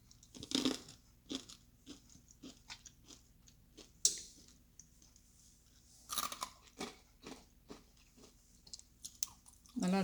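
Oil-free baked murukku is bitten and chewed up close, giving sharp, irregular crunches spaced through a quiet room, with a few louder bursts of crackling.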